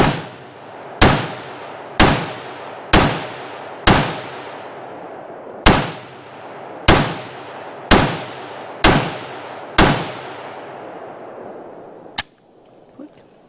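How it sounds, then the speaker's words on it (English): Valmet M62S rifle fed from an Arsenal waffle magazine firing ten loud, close single shots at a steady pace about a second apart, each with a short decaying echo, then a metallic clack. "let's try the Arsenal waffle mag in the Valmet"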